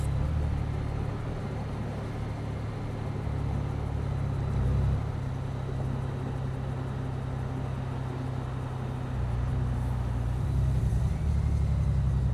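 Road traffic heard from a motorcycle riding behind a diesel truck, a loud continuous engine and road rumble with steady low drone and slight swells, no talk.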